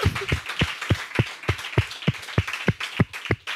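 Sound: congregation clapping to acclaim the Lord

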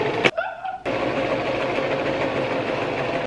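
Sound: sewing machine stitching a skirt

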